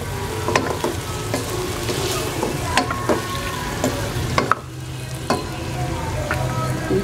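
Coconut milk (gata) simmering in a pan while being stirred, a steady bubbling sizzle with scattered scraping clicks of the spoon against the pan, close and continuous without talk.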